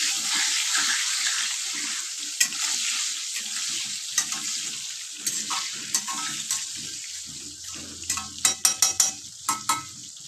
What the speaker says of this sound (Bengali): এক এক করে তেলের ভেতরে আমি আলুগুলোকে দিয়ে দিচ্ছি।